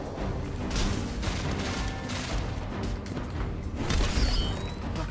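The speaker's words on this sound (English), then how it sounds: "I can't believe that grenade actually worked for me" A grenade explodes in the Destiny 2 beta video game, giving a dense, booming burst of game noise with rumbling impacts and a sharp crash near the end.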